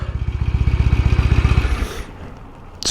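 A 1968 Norton Commando motorcycle engine runs close by, a steady pulsing thump for about two seconds that fades and settles away, followed by a short hiss near the end.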